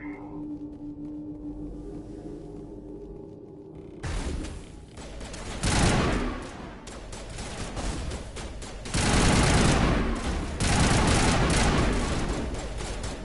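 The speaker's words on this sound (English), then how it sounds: "Put my assault rifle on." Assault rifle fire in the Mass Effect video game: after a quiet stretch, loud rapid bursts of shots begin and keep coming in several long, dense volleys.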